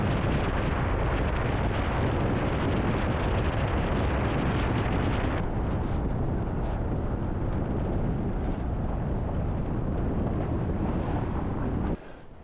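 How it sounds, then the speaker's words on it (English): Strong wind roars and buffets the microphone continuously at the beach, a dense, loud rushing that barely lets up for the whole stretch. "Man, is it windy out here."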